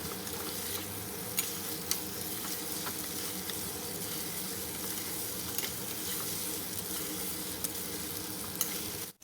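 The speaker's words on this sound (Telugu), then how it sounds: "ఇప్పుడు ఈ గుమ్మడికాయ ముక్కల్ని ఇలా వేసేసి ఒకసారి బాగా కలుపుకొని" Pumpkin pieces fry in a pan with ginger-garlic paste, making a dense, even sizzle that runs the whole time, with faint scraping ticks from stirring and no voices.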